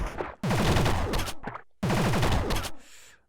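Rapid machine-gun bursts in the pixel-art well-diving game Downwell, two dense volleys of clipped retro shots separated by a brief gap, loud and close with no talking.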